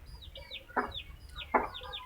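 A hen gives two short, throaty clucks close by while her chick keeps up a thin, repeated high peeping throughout.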